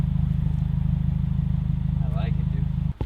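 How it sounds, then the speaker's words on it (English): A Subaru WRX with an aftermarket exhaust rumbles at a steady, loud idle, its low pulsing drone constant throughout while someone speaks briefly over it near the end. "check out that exhaust"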